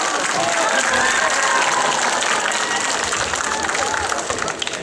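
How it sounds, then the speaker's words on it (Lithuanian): Warm applause from an audience at a school gymnasium celebration in Vilkija park, a dense, steady wash of clapping that holds loud for several seconds before easing slightly at the end. "Pasitikime karštais aplodismentais."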